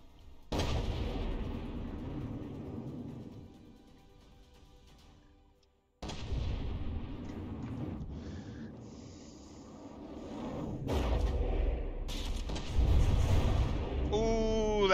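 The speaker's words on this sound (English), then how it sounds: "that was a gun detonation" A gun detonation goes off in the vehicle combat video game From The Depths with a heavy, booming blast. Another loud burst follows later, and rumbling mechanical battle noise and further sharp hits carry on afterward.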